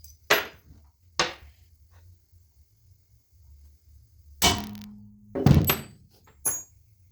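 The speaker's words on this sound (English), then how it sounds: "I'm gonna knock a hole in this and I'm gonna weld that up" Several sharp metallic knocks on aluminum, hammering a hole in a boat rod holder, spaced apart with quiet gaps between them, followed by a louder scraping, grinding burst near the end.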